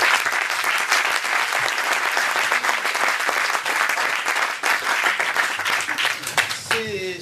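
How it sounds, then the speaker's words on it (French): An audience in a hearing-style gathering applauds a lawyer with sustained, dense clapping at steady loudness throughout, and a voice briefly emerges near the end as the clapping continues. "Vous pouvez l'applaudir."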